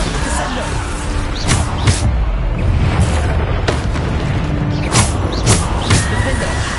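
Repeated Bombarda explosion spells in the video game Hogwarts Legacy, a series of booming blasts at irregular intervals over a dense rumble of battle noise, with a voice casting spell names between them.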